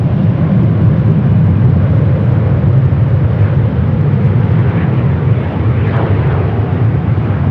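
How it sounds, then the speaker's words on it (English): A Qantas Airbus A380 passes at LAX with a loud, steady, rumbling engine roar that stays strong and broad throughout. "The A380 Super with Qantas."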